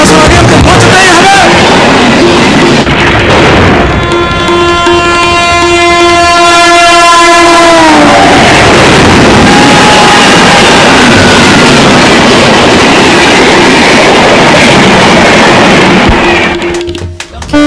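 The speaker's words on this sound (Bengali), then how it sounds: "ওদিক থেকে তো ট্রেন ছুটে আসছে" A train rushes along the tracks in a staged jatra drama, its horn blaring long and loud before falling into a dense roar of rolling wheels, with a voice shouting over it.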